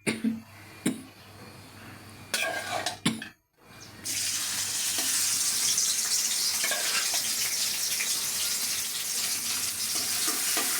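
Crushed garlic dropped into hot oil in a pan, a few clatters and clicks first, then a loud, steady, hissing sizzle that runs on continuously, close and alone.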